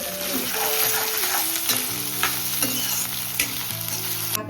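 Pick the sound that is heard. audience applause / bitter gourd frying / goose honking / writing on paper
bitter gourd frying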